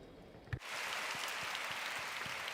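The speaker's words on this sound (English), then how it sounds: "Please give him a round of applause." After a brief murmur, an audience at a talk on Christianity and the exhibition on Madeleine Delbrêl breaks into steady, full applause from many hands, continuing evenly to the end.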